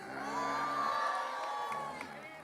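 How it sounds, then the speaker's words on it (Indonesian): A crowd cheers and whoops for a woman called up during a religious sermon at a Merah Putih patriotic concert event in Dolopo, Madiun, a loud sustained burst of voices lasting a couple of seconds. "Tepuk tangan untuk Mbak Ika"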